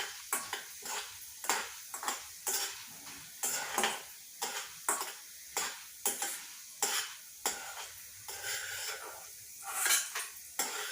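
Fried chana dal lifted out of hot oil in a pan with a metal spoon, giving rhythmic scraping and clinking strokes over a soft ongoing sizzle, close and fairly quiet.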